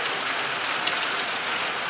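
Rain falls in a steady, even hiss, close and continuous, with no voices or other sounds over it.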